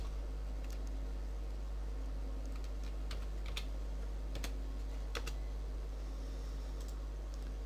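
A computer keyboard is tapped in short irregular clusters while a captcha is typed in, the clicks close and light over a steady hum, with no voices.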